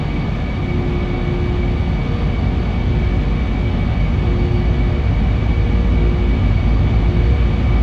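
A jet airliner's takeoff roll at full power in FSX, departing Princess Juliana International Airport: a loud, steady engine roar with a constant whine runs unbroken throughout, and no one speaks.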